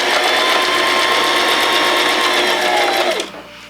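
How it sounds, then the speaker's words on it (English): Sewing machine stitching a pleat closed on a Christmas puff quilt, running steadily and loudly for about three seconds before winding down and stopping near the end. "once you sew that pleat closed, you just wanna make sure that the seam of the top row and the seam of the bottom row line up exactly"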